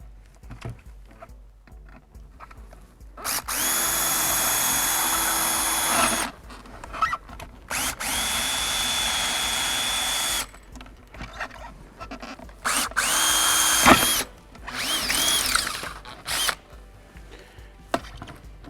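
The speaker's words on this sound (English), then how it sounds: "to remove the rivets, you'll need an 11/64 drill bit" A power drill with an 11/64 bit whirs in several sustained bursts, drilling out rivets on a ski boot, loud and close, with short gaps and sputtering, grinding stretches in between.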